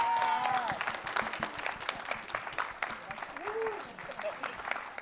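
An audience at a poetry slam gives a steady round of applause for a third-place finisher, with dense clapping and scattered cheering voices throughout.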